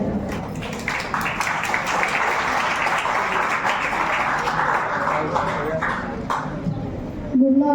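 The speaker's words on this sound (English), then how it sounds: "So please give a round of applause." An audience at a high school Science Day celebration applauds in a dense, sustained roar of many hands clapping. It thins near the end as a voice begins speaking.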